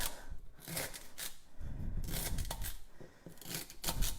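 A small paring knife slices through celery, giving a run of crisp, crunchy cuts in an uneven rhythm, close and fairly loud with no talking.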